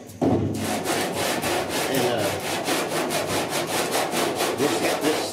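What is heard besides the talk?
block sanding body filler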